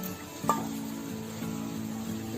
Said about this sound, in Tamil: தேங்காய் வறுக்கிறதுக்கு